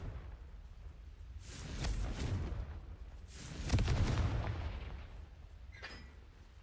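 Two heavy fiery blasts from the Confringo spell in Hogwarts Legacy, each a deep booming burst with a whooshing tail, a few seconds apart, followed by a faint high chime.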